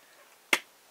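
Cap of a Gorilla wood glue bottle popping off, a single sharp, close click in an otherwise quiet space.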